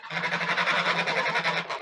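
Geese honk over and over in a village yard, a dense, steady chorus of nasal calls, loud and close, continuing without a break for the whole stretch.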